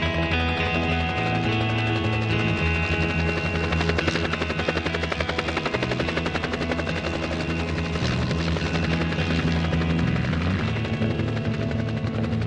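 A helicopter flies nearby with a loud, continuous rotor thump and steady turbine drone that holds unbroken throughout, with no talking.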